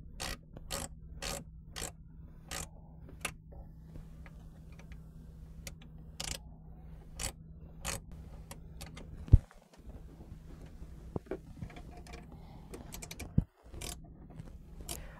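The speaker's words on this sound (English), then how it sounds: "secure the brackets down to the heat shield and give a final tightening" A ratchet tightening brackets onto the heat shield of a 2015-17 Ford Mustang GT 5.0L during an air intake install, with a series of crisp clicks in short bursts, close and fairly quiet, and a couple of louder clunks.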